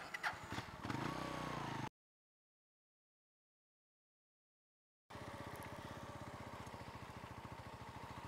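Engine rumble from a crowd of motorcycles on a road in Malabrigo, Lobo, Batangas: a short steady drone, a few seconds of silence, then a louder, continuous pulsing engine noise nearby.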